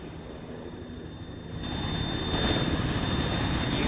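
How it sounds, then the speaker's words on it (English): An Arma 3 video game helicopter drones steadily with a dense rotor and engine roar, growing slightly louder partway through and holding on without speech. "That was their helicopter."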